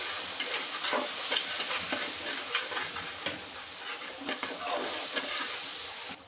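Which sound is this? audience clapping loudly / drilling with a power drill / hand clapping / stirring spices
stirring spices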